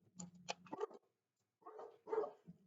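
A dog barks several times in short bursts, fairly close, with a pause of quiet between two groups of barks.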